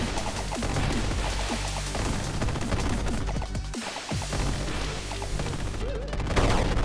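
Rockets fire in the retro arcade shooter Cecconoid. A busy clatter of rapid explosive bursts and crashes plays over a constant loud game din, with shots and impacts peppered throughout.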